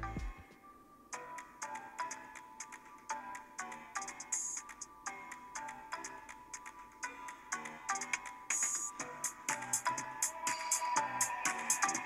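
A ringtone plays through the speaker of a Xiaomi 12 Pro phone, a busy ticking electronic melody that runs continuously, moderately loud, with no talking.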